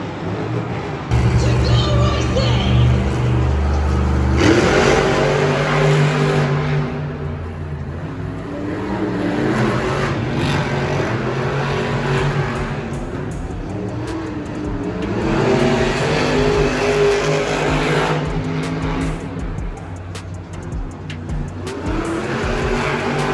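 Monster trucks Zombie and Gravedigger race head to head at a Monster Jam event in Pittsburgh, with loud roaring engines revving and surging in repeated waves over an arena crowd, tires squealing at times.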